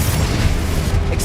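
A loud, dense explosive blast from the Confringo spell in the Hogwarts Legacy video game, a sustained rumbling boom that fills the whole short moment with no talk over it.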